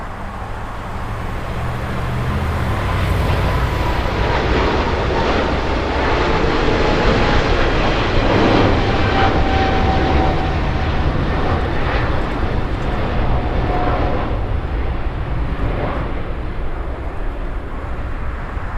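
A fixed-wing airliner roars past at LAX airport, a loud, sustained jet-engine rumble that builds and holds steadily for about eighteen seconds, with no one speaking.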